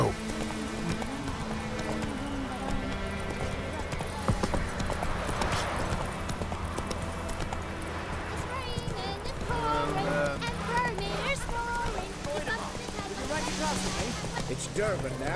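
Hooves of Geralt's horse Roach galloping in The Witcher 3, a steady rhythmic clip-clop running throughout beneath game dialogue and music.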